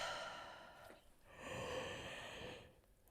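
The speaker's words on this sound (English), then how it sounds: "Oh, goodness, I can't quit yawning." A woman yawns, one long breathy inhale and exhale that swells and fades, soft and close with no other sound around it.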